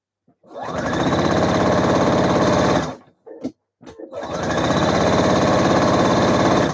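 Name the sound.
sewing machine stitching a narrow hem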